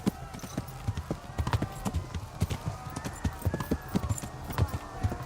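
In the video game Kingdom Come Deliverance 2, horse hooves clip-clop in an uneven galloping rhythm, with a faint neigh and a voice talking quietly underneath.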